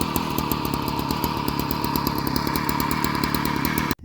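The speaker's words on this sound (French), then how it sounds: "il faut passer un coup de débroussailleuse sous les pieds là" A brush cutter runs steadily on a pasture, slicing through grass and bracken with a loud, continuous buzzing two-stroke whine and rapid pulsing, close by, cutting off abruptly at the end.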